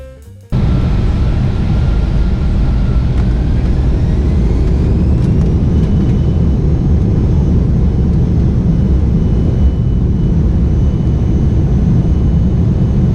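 Inside the cabin of an American Eagle Embraer E175 leaving Charlotte, a loud, steady jet engine roar sets in abruptly and holds as a dense, continuous rumble.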